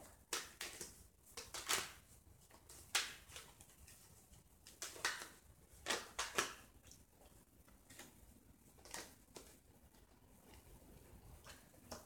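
Tarot cards being shuffled, soft irregular riffles, taps and flicks close up and quiet, coming in uneven bursts with pauses and no talking.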